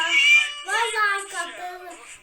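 A cat meows in a drawn-out, wavering cry, then a couple of shorter, rising mews close to the microphone, with no talking.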